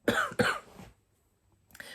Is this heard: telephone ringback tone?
no